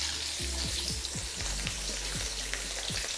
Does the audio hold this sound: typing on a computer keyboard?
no